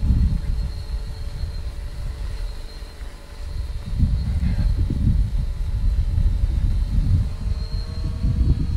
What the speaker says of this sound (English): to just fly without looking at the drone.